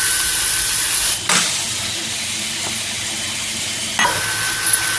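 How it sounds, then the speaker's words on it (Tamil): Noodles are stirred in a hot pan with a soft scraping over a steady sizzling hiss, with a couple of sharper knocks from the utensil. "இது நல்லா கிளறி விட்டுக்கலாம்"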